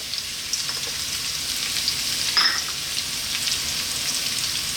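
Ginger and garlic fry in hot oil over high heat, giving a steady, close, bright sizzle with small crackling pops throughout and a brief louder spatter near the middle.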